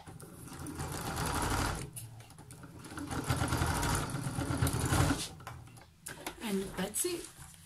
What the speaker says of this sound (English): So one row of stitching all the way around here.